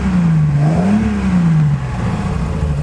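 A Nissan Fairlady Z fitted with a 3.1 stroker engine runs steadily at close range, its loud, continuous drone wavering slightly in pitch with a faint whir over the top.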